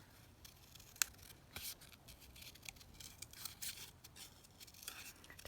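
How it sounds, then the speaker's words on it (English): Scissors snip out a shape from paper card for a large journal card. Quiet, close, irregular cuts and light paper rustles follow one another over a few seconds. "Just quickly cut this one out."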